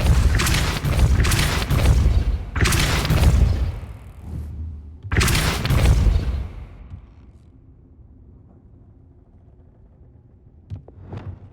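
Three heavy booming spell blasts from the Depulso force charm in Hogwarts Legacy, each a deep, loud burst with a rumbling tail, followed by a quieter stretch with faint game ambience and a small thump at the end.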